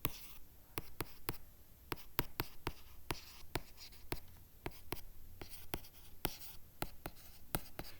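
A pen writes out a math solution on a surface, producing sharp, irregular ticks and scratchy strokes in quick bursts, close and alone without talk.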